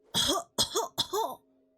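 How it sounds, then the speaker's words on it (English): An old man character in the game Pharaoh: A New Era coughs three times, harsh and throaty, in quick close bursts with a faint tone lingering after. "somebody got like that old man cough"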